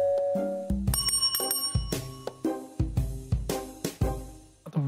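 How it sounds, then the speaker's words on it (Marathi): A doorbell rings in a home in a Marathi TV serial scene, a bright chiming bell struck repeatedly in a rapid series of clear tones with no talk over it. "आता बेल वाजली म्हणून दार उघड सांगायला"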